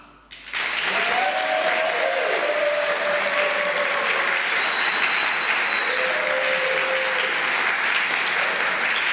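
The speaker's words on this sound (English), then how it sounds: "if you believe that, please clap now." An audience at an AI ethics debate breaks into steady, dense applause that rises quickly after a brief quiet start and holds at full strength, with faint vocal sounds mixed in.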